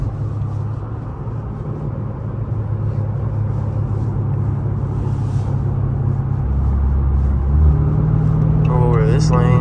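Dodge Charger SRT8 driven on a public road outside track mode, its deep engine rumble droning steadily and swelling slightly as it accelerates, with a brief voice near the end.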